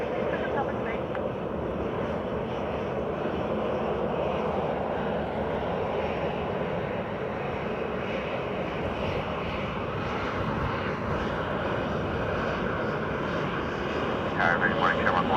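Aircraft engine roar from a plane landing on runway 28 left at Dublin Airport on a windy morning, a steady loud broadband rumble throughout, with faint talk in the background.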